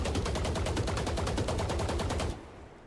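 Gunfire sprays from a weapon in the video game Valorant, a fast steady burst of about twenty rapid shots that cuts off abruptly near the end, loud and close with no voices.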